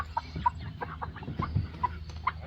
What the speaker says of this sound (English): That's a full-grown chicken.